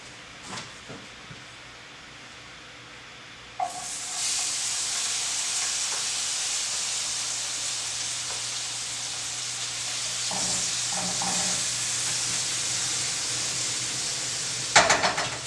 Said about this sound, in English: put your butter and garlic into the pan and allow that to start heating